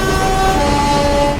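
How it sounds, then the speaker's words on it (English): A loud, steady multi-tone horn blares continuously with no break, a modded train horn in Train Sim World on a Class 101 train. "I have got a sound mod for this, which this isn't the default horn, but it sounds nice"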